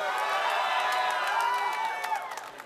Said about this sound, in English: I heard a lot of fans out there tonight, Scott.